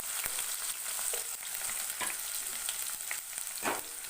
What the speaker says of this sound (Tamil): வெங்காயம் கொஞ்சம் நல்லா வதங்கி வரணும், அது வரைக்கும் நம்ம வதக்கலாம்